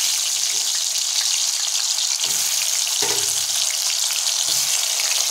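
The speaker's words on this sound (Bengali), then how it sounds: "এখন আমরা এই আলুগুলোকে গরম তেলে লাল লাল করে ভাজা করে নেব" Turmeric- and salt-coated potato pieces frying in hot oil in a wok, giving a steady, loud, close sizzle with a few soft knocks as the pieces are moved.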